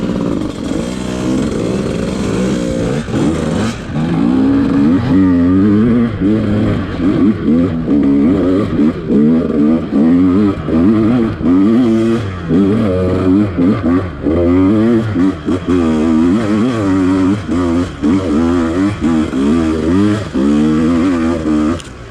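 Two-stroke dirt bikes, a fuel-injected KTM 150XC-W TPI and a Beta 200rr, are ridden off-road, with a buzzing engine rising and falling in repeated revs and throttle blips throughout, loud and close.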